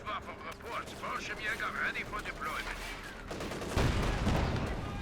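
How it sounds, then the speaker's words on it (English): A .50 cal machine gun firing in Company of Heroes 2, with bursts of gunfire and crackling shots under battle noise, rising into a louder heavier barrage toward the end. "Opens fire on the 50 cal"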